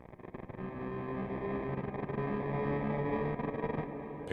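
A Reactor Meltdown sound from the Heavyocity Dystropia library, a dark, distorted industrial drone with steady low tonal layers and gritty texture, sustained and fairly loud throughout without any talk.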